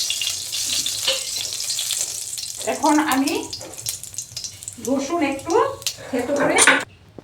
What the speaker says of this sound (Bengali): এখন আমি অল্প কয়েকটা কালো জিরা ফোড়ন দিয়ে দিলাম।